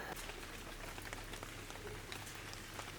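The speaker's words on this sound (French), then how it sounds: "Il pleut et il y a de l'orage." Rain falling during a thunderstorm in the village of Aristi in Greece's Zagori region near the Vikos gorge, a faint, steady patter with scattered crackling drops, heard alone without speech.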